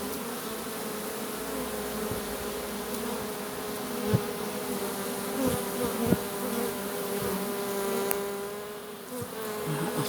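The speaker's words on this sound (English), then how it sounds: "I've got a huge number of bees on the back of me, obviously being this close and in front of the hive, all the flying bees returning now" Honeybees fly in front of their hive, a dense steady buzzing swarm close around with a few louder passes near, no voices.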